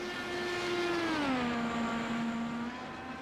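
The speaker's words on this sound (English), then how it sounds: "you can hear the car is still stuck at full throttle" Race car engine in a sim racing IndyCar event at Road Atlanta, stuck at full throttle after a hardware wheel disconnect, droning steadily and loudly with a slight drop in pitch partway through, no voices.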